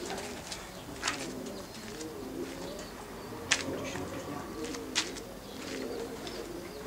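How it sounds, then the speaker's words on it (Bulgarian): Pigeons coo outdoors in soft repeated low phrases, with a few sharp clicks and flutters in between and faint distant bird calls. "Светъл гълъб."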